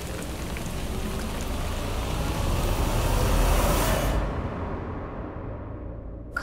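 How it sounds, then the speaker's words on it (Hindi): Steady rain pours down in a wide, even hiss that swells a little louder midway, then thins and drops off near the end, with no voices. "काश ये बारिश बंद हो जाए"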